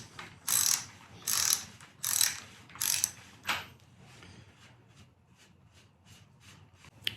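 A tool loosens a left-hand threaded bicycle bottom bracket on a trike, making several loud, close ratcheting pulls followed by a series of quieter, evenly spaced clicks.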